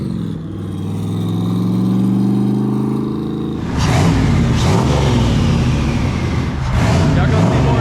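Turbocharged LS1 V8 swapped BMW E46 revving hard while drifting on the street, a loud harmonic engine drone rising in pitch before breaking into rough, bursting high-rev roar with tire noise and brief lift-off gaps.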